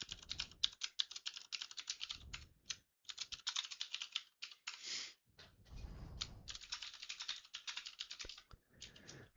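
Typing on a computer keyboard while entering a person's details into a form, with bursts of quick close key clicks broken by short pauses, alone without speech.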